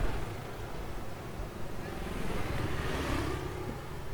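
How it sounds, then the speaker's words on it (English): Steady low rumble of road traffic passing at a distance beside an abandoned roadside gas station in Gary, Indiana, a continuous wash of engine and tire noise with a slight swell near the end. "You guys can hear the traffic in the background."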